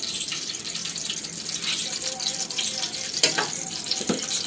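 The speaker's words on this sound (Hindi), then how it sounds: "घी जो है ना अभी इसमें मैंने डाल दिया है" Ghee sizzling in a hot kadhai in a village kitchen, a dense steady crackling hiss with scattered sharper pops, close and continuous throughout.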